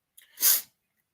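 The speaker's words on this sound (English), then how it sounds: "I'm about to sneeze again." A single sharp sneeze, close up, with a quick breathy intake leading into a bright, hissing burst that stops abruptly.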